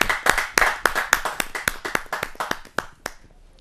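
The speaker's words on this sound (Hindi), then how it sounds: "जरा जोरदार तालियों के साथ हम उनका स्वागत करते" Hand clapping at a kavi sammelan poetry gathering as a woman poet is welcomed, a close, fairly sparse run of individual claps rather than a dense crowd roar, tapering off after about three seconds.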